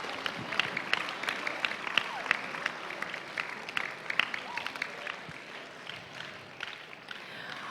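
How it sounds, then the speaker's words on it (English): Audience applause for a school band, choir and drama performance fills the room as steady, dense clapping throughout, moderately loud and continuous with scattered sharper claps. "Please put your hands again together to give them a round of applause for the hard work."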